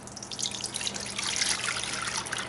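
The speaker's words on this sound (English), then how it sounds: "Get your milk and just pour that in." Milk poured steadily into a mixing bowl over sugar while making bran muffins, a continuous close liquid splash and trickle lasting a few seconds with no talking.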